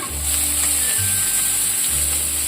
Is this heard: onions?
yes